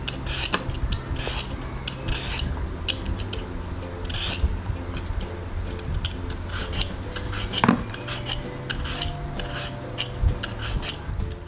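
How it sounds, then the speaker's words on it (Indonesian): Half-mature coconut flesh is shaved on a grater for coconut chips, making quick, repeated rasping strokes with light metallic clinks, close and steady, with no voices. "Jadi enaknya diserut aja seperti ini."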